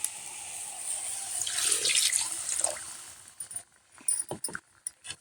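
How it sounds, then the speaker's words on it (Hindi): Water pours steadily into a cooking pot holding spiced tomato masala for a few seconds, then stops, followed by several clinks and light knocks of the pot and utensils. "तो अब हम इसमें डाल देते हैं पानी।"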